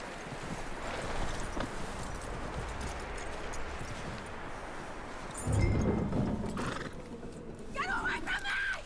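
A horse in the video game Red Dead Redemption 2, with steady hoof clip-clop running under a man's speech, a heavier thump midway and a brief high whinny near the end.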